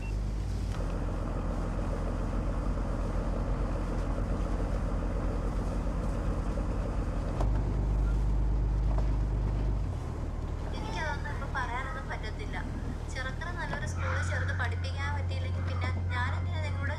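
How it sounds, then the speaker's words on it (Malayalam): Boat engine running as the vessel heads out to sea in a Malayalam film scene, a steady low drone throughout with engine note shifts partway, while people talk over it. "ബോട്ട് കടലിലേക്ക് കയറിക്കൊണ്ടിരിക്കുകയാണ്."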